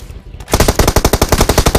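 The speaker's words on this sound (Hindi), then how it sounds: "मुझे अचानक से पीछे से गोलियां चलने की आवाज आती हैं" Rapid automatic gunfire in PUBG Mobile rings out close and loud after a short quiet moment, a tight, even burst of about a dozen shots.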